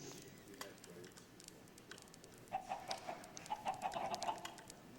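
Minecraft chickens trailing a player who holds seeds, giving a run of soft clucks and short calls in the second half over a low game background, with a brief faint voice early on.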